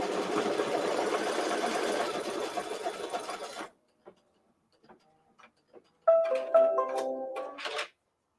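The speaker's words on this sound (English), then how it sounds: "this is a 4-minute embroidery stitch" An embroidery machine, part of a ScanNCut shape-to-embroidery setup, stitching a design at close range with a steady rapid whirring for several seconds, then stopping; a few faint clicks follow before a short burst of stitching and mechanism noise resumes.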